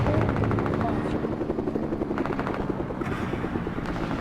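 A helicopter in a video game thumps with a loud, rapid rotor chop, mixed with bursts of gunfire, while a player talks over it.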